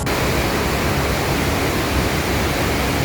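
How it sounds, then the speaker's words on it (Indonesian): Floodwater of the swollen Ciliwung river in Jakarta rushes past, a dense, steady broadband roar with no let-up across the whole stretch, loud and close. "Pantauan Sungai Ciliwung dari sudut pandang warung Gado-Gado Bututi semakin membesar."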